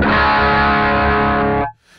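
Electric guitar through a Mooer Radar cab sim pedal with power amp emulation switched off gives a loud, dense distorted chord sustained for over a second before cutting off to near silence.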